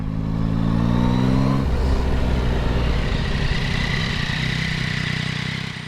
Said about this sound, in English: That bike is quick from that pickup, especially with the quick shifter.